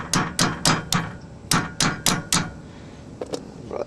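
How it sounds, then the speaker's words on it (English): Hammer strikes tapping a part through a trailer hub during a rebuild, eight sharp metallic blows in an uneven rhythm followed by a couple of lighter taps, close and loud with no talking. "Brought the hammer over here, so we're gonna tap it through."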